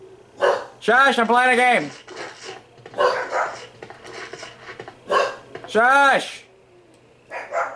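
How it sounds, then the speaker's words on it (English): A dog barking in the video game Resident Evil 2, several loud, close, harmonic barks in short bursts, mixed with a person talking over them. "Dog, shush!"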